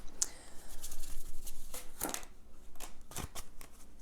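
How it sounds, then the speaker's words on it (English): Tarot cards are riffled and shuffled in a series of quick, crisp bursts, close by and fairly quiet, with brief pauses between them. "the shuffling could take a minute or two"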